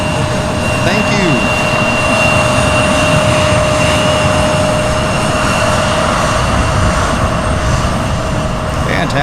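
A United Airlines airliner's jet engines roar steadily at an airport, a loud continuous broadband rumble with a faint steady whine, lasting throughout.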